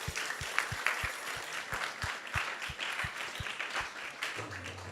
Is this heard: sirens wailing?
no